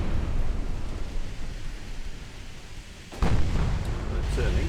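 Artillery gunfire in a 1910s war video game, a deep low rumble of distant guns followed by a sudden louder boom and sustained roar.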